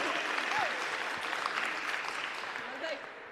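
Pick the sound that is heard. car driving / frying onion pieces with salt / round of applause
round of applause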